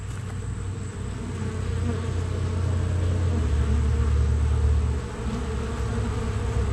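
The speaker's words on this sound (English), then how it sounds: "Bunch of bees coming in." Honey bees buzzing at a hive entrance in an apiary, a dense, continuous droning hum of many insects nearby that swells slightly midway, with no talking.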